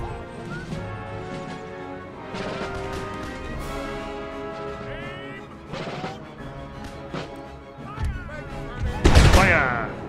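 Musket volley gunfire from line infantry in the Empire: Total War battle, a loud burst of crackling shots near the end amid ongoing battle noise and music, with a voice speaking over it.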